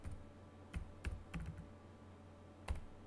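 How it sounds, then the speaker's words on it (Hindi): A computer keyboard being used to type a MySQL database command, with sparse, quiet key clicks in small bursts over a faint steady hum, no speech. "हम उसके लिए कमांड टाइप करते हैं क्रिएट डेटाबेस और डेटाबेस का नाम"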